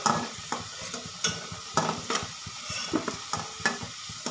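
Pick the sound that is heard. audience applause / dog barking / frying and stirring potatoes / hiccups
frying and stirring potatoes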